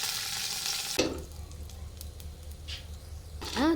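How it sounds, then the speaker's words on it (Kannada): Ginger, garlic and chillies frying in a pan, a steady hissing sizzle with a spoon stirring through it, the sizzle briefly dropping and then swelling again near the end. "ಸ್ವಲ್ಪ ಅದು ಕಂದು ಬಣ್ಣ ಬರೋ ತನಕ ಅದನ್ನು ಫ್ರೈ ಮಾಡ್ಕೊಂಡಾದ್ಮೇಲೆ"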